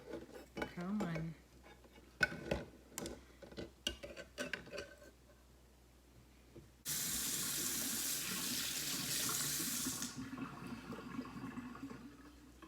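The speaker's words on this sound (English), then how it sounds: "I'm just going to set it carefully in the sink where I will rinse it." Tap water gushes into a kitchen sink to rinse limed eggs, a loud steady rush lasting several seconds after clattering dish and handling sounds, with brief speech early on.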